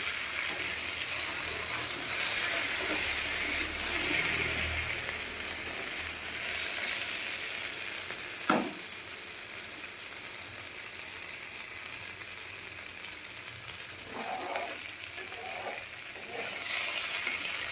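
Hand-ground spice paste of whole cumin frying in a pan for a Bengali prawn curry, a steady low sizzle broken by a sharp clack of the spatula and occasional stirring scrapes, close and alone.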